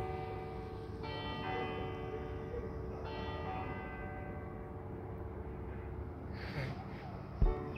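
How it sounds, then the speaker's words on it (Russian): Church bells of Saint-Étienne church in an old French town ring out over a river, fresh strikes around one and three seconds adding to a long, sustained, shimmering hum with no talk, and a brief knock near the end. "слышать колокольный звон, разливающийся над рекой, звон колокола церкви Сан-Этьен."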